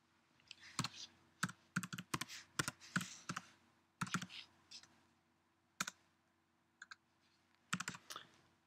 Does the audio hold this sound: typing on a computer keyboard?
yes